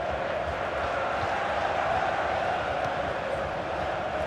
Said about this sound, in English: the crowd really enjoying it